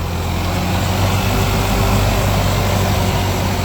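A 1994 Ford Ranger's 2.3L four-cylinder engine idles steadily and close by, with a continuous low rumble and an even hum. No one speaks over it.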